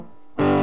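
An electric guitar plays through a Big White Monkey Chimp Mk 3 combo amp with valve-driven reverb, and a loud distorted chord bursts in after a quiet, faintly ringing lead-in.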